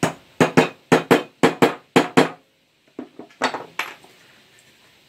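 Hammer blows land in quick paired strikes on a screw set in wood for a leg vice, eight sharp metallic knocks close by, followed by a few lighter taps and clatter.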